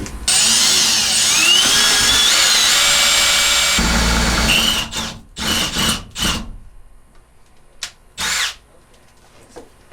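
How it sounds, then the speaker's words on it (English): A power drill whines steadily for several seconds while drilling through the roof of a Promaster van, then stops and restarts in a few short bursts with quiet gaps between, close and loud. "I'm gonna drill a hole up"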